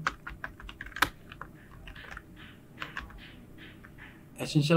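Rapid, uneven bursts of keystrokes on a computer keyboard as a search for a free Adobe Premiere Pro essential graphics download is typed, fairly close, ending in a louder cluster of presses.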